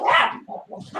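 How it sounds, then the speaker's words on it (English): A dog barks in the background, a quick burst of two or three loud, close yaps lasting about a second, with no talk over it. "There's the dog again."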